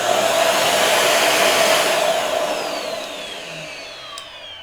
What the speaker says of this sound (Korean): 여기에도 똑같이 모터가 들어있어서 진공 청소기랑 똑같은 원리로 빨아들이게 되고요